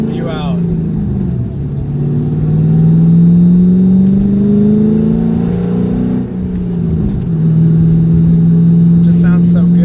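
A 2007 Ford Mustang GT V8 idles and revs while driving, its deep engine drone rising and falling in pitch close to the microphone, with a voice speaking briefly near the start.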